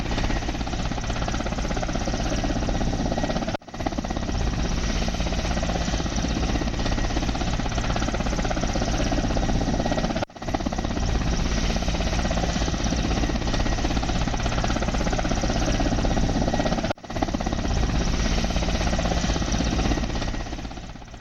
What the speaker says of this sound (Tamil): பிரதமர் மோடியின் கன்னியாகுமரி வருகையை ஒட்டி ஹெலிகாப்டர் பாதுகாப்பு ஒத்திகை நடைபெற்றது